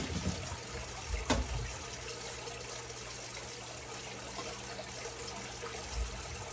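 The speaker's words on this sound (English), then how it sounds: "whisking little by little, we're gonna start putting the milk in gradually" Milk pours gradually into a flour-and-butter sauce for mac and cheese while a whisk works steadily, giving a continuous liquid trickle with a few sharper clinks against the pot.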